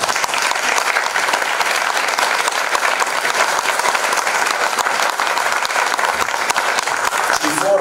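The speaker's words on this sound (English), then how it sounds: "one round of applause." A film festival audience in Cyprus breaks into continuous, even applause, a loud wash of many hands clapping throughout, with faint voices beneath it.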